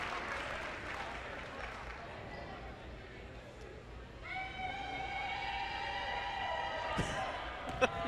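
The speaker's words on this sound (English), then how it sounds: "The interesting sounds a crowd will make, huh?" Crowd at a men's college basketball game cheers and claps during free throws, a broad roar of voices and applause swelling midway, with whistles and a few sharp pops rising over the din.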